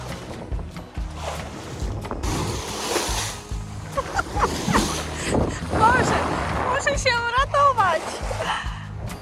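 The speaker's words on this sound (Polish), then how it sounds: "Och, jaka fala!" Waves slosh and splash against a sailing yacht out on the open Baltic Sea, a steady watery wash close by, with people talking over it throughout.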